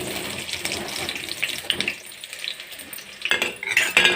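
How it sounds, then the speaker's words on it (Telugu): Onions go into hot oil in a pan for a curry, giving a close, uneven sizzle and some stirring that swells and dips, with a louder burst of frying near the end and no voices. "ఇది ఆయిల్ వేడెక్కినాక ఆనియన్స్ వేసుకోవాలి"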